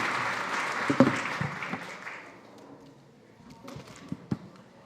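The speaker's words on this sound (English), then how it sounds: "Please give them a round of applause." An audience at the Food Tank Summit at SXSW breaks into loud, dense applause that holds for a couple of seconds, then thins out to scattered claps and a few final taps.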